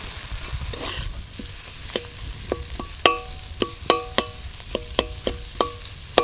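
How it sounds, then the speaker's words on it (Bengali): A spatula scrapes and taps against a pan at a steady pace as boiled potatoes are stirred into spiced masala with Kashmiri chilli powder for an aloo chop filling, over a faint low sizzle with no talk. "এবার দিয়ে দেবো সিদ্ধ করে রাখা আলুগুলো"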